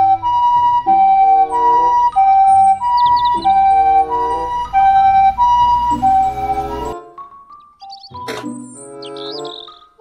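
A two-tone toy ambulance siren alternates rapidly and loudly for about seven seconds, then stops, leaving a few electronic chirps.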